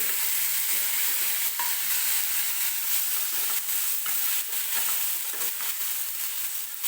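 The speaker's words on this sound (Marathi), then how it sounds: "टोमॅटो सुद्धा व्यवस्थित आपल्याला सॉफ्ट होईपर्यंत भाजून घ्यायचं आहे." Tomato pieces fry in a hot pan as they are stirred, producing a steady, close hiss of sizzling oil broken by soft scraping strokes, with no voices.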